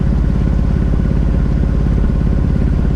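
Steady, loud chugging drone of a sailboat's motor pushing upstream against the current at about three knots, a close, continuous mid-pitched engine rumble with a fast regular throb and no voices.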